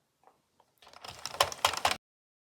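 A knitting machine carriage being run across the needle bed knitting rounds of red yarn, heard as about a second of close, dense mechanical clacking and rattling passes that end abruptly after a few faint ticks.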